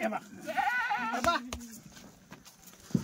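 Kathiawadi goats bleat at a livestock market, a wavering cry rising near the start amid a noisy crowd, with people talking loudly throughout and a sharp knock near the end.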